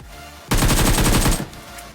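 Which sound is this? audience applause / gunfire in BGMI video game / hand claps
gunfire in BGMI video game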